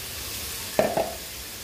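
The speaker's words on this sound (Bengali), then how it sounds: "এখন তরকারিগুলো দিয়ে ভালো করে কষাবো।" Eggplant and potato being stir-fried in a pan: a quiet, faint sizzle, then two brief, sharp clinks of a stirring utensil close together.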